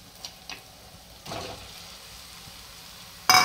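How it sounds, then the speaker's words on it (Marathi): Crumbled paneer frying in oil with onions, a quiet steady sizzle with a few soft stirring scrapes and a louder burst of crackle at the end. "हे चांगलं तेलामध्ये कांद्यामध्ये भाजून घ्यायचे, परतून घ्यायचे चांगलं"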